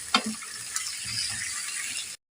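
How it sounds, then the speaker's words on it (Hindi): Sliced potatoes fry in oil with cumin, making a soft, steady sizzle. A couple of scraping stirs can be heard near the start before the sound cuts off abruptly. "इसे अब मैं 3 मिनट भूनूंगी, फ्राई करूँगी।"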